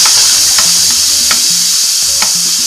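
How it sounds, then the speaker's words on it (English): Steam hissing hard and steadily through an Instant Pot valve during fast venting, loud and continuous with a few faint clicks and low hum beneath. "this is what they call fast venting"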